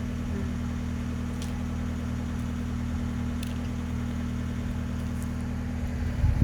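A parked car's engine idles steadily in its monthly start-up run, a constant low hum with a faint rev swell near the end, no talking.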